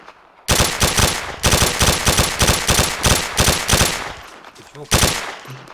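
Rapid bursts of automatic gunfire crackle loudly and close in ArmA 2, fired in quick repeated volleys with brief gaps, a final burst near the end.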